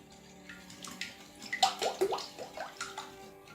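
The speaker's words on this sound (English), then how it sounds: "I'm now going to whisk to combine all the custard ingredients." Custard ingredients for a French toast bake are whisked in a bowl, the egg mixture giving a string of close, light, wet clinks and sloshes in quick uneven strokes that grow busier midway, with no talking.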